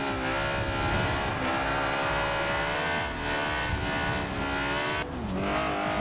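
Honda S2000 engine racing in the Forza Horizon video game, a loud, continuous high-revving whine that climbs and drops through gear changes, with tire noise and no talk over it.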